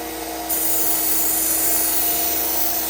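A belt grinder sharpens a knife blade on the slack part of the belt, giving a steady, loud abrasive hiss and whine that holds without pause throughout, with no talking.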